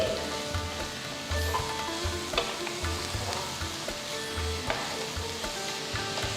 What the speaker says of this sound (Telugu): ఇప్పుడు ఈ బీరకాయలు బాగా లేతగా ఉన్నాయి కాబట్టి నేను ఈ తోలు మొత్తం వేసేసాను ఒక ఫైవ్ మినిట్స్ బాగా సాటే చేయండి